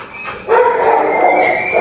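A pet pitbull gives a loud, sustained vocal call lasting over a second, close by, following a quieter stretch of background sound with no talking.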